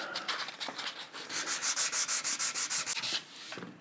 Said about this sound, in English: So I'm gonna keep on sanding this back